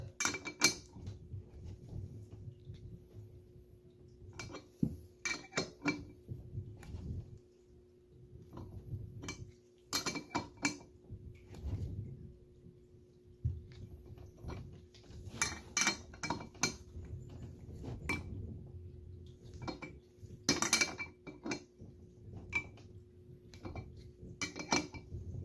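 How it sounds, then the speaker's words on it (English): Wrench working a corroded bolt while a new turbo goes onto an RB25 engine in an S15, heard as irregular metallic clicks, ratcheting ticks and clinks from close by over a steady hum. "And then now you can just drive it through with the wrench"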